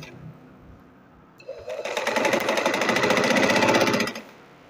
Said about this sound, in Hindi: अब मैं इसके ऊपर सिलाई लगाऊंगी।